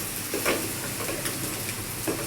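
Vegetables with koral fish cook in an aluminium pot, giving a loud continuous sizzle with a few scraping stirs.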